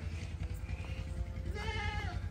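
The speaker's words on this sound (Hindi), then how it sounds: "तनवीर भाई ये आपकी बकरी ठीक है खुश हैं आप" A goat bleats in a wavering, tremulous call outdoors, coming through over a steady low rumble of background noise, likely a water pump running nearby. The bleat is clear and close, rising out of the hum partway through.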